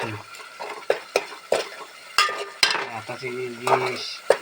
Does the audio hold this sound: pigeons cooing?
no